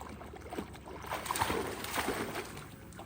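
A small boat moving on a lake, with soft water lapping and hull slosh under a steady wash of outdoor wind noise, moderately close and continuous.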